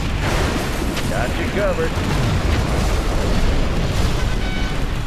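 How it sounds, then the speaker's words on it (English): A particle cannon strike from the Command and Conquer Generals Zero Hour game explodes in a sustained rumbling boom, with game voice lines and effects layered over the blast throughout. "Warning, particle cannon activated."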